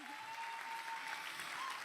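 An audience claps steadily for a secondary school student at an event, a brief, even patter of applause heard at moderate distance.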